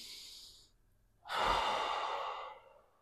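A slow, deep breath drawn during a floor exercise for bone strength, heard up close as a brief soft intake followed by a long, strong exhale that fades out, with no talking.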